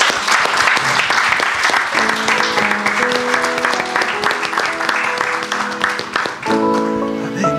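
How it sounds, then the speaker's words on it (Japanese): Church congregation applauding after worship during a bilingual Japanese and Spanish service; sustained, dense clapping for several seconds, with music or sung tones running underneath. "Con un aplauso."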